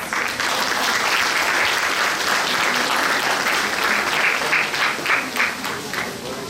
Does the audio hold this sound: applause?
yes